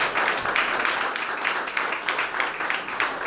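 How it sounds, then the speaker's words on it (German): Applause at an art exhibition opening, a brief burst of clapping from a gathered crowd, fairly even and moderately loud with no clear speech over it. "Applaus, Applaus."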